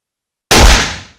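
One loud, close gunshot bursts sharply out of silence and decays over about half a second, heard alone in a dramatized story scene.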